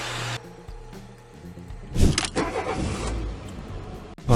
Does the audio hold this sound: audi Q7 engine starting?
yes